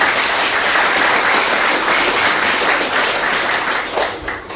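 An outdoor audience at an open-air Chopin concert applauds, a dense, loud and steady clapping that carries on throughout and eases slightly at the end.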